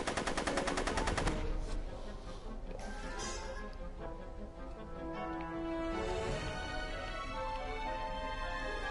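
Rapid gunfire bursts in a Back to the Future video game, a dense rattling volley loudest in the first second and a half, then continuing beneath layered game music and effects.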